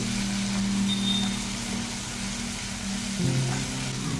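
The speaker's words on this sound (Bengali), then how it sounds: "পেঁয়াজটা ভালো করে তেলের সাথে আমাদের ফ্রাই করতে হবে।" Onions frying in oil in a pan with a little salt, producing a continuous broad sizzle alongside a low steady hum, close and fairly loud, with no talking.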